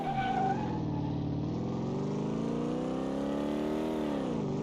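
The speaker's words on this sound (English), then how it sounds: "Hear that revving?" A 1953 Cadillac Fleetwood engine revs in Car Mechanic Simulator 2018, a steady loud rumble with rising and falling pitch as the car picks up speed, with no talking.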